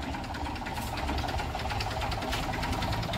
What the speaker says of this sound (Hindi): अब ट्रैक्टर खेत से घर पे आ गया है